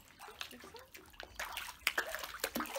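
A child splashing and playing in river water at a jetty, irregular close sloshes and slaps growing busier and louder partway through, outdoors with no talk.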